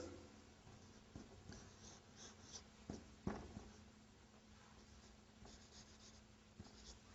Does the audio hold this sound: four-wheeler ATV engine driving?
no